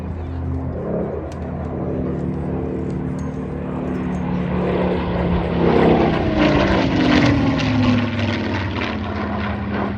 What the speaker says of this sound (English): The Griffin is a much more growly type of note.